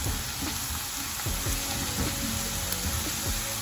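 Ginger garlic paste frying in a pan for a spicy Kerala-style mushroom curry, giving a steady loud sizzle with soft stirring scrapes and no talk.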